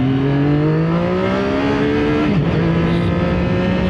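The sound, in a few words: CFMOTO 675SR motorcycle engine revving and accelerating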